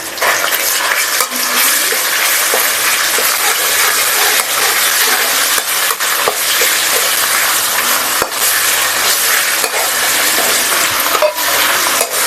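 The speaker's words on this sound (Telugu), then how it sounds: "ఆయిల్ వేడెక్కిన తర్వాత అల్లం వెల్లుల్లి పేస్ట్, స్పైసెస్, బిర్యానీ ఆకు, చెక్క," Ginger garlic paste with whole spices, bay leaf, cinnamon, cloves and cardamom frying in hot oil for vada curry: a loud, continuous crackling sizzle with occasional stirring scrapes throughout.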